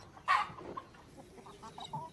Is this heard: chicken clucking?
yes